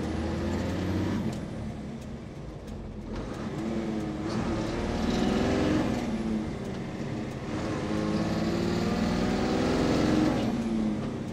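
A motorhome engine drones and revs under load while pulling in gear, a steady loud rumble with rising and falling pitch sweeps, close throughout.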